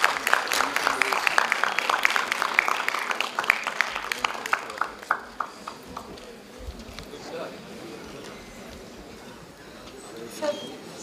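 At a Constitution Day ceremony, dignitaries applaud with a burst of dense clapping that thins into scattered claps and dies away after about five seconds, while people talk underneath and after.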